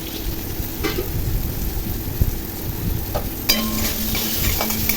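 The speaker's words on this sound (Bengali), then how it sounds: "আলু একটু ভেজে নিয়ে এর মধ্যে একটু লবণ দিলাম ও একটু হলুদ দিলাম" Potatoes frying in a pan with salt and turmeric, a dense continuous sizzle with occasional stirring scrapes, close and fairly loud throughout.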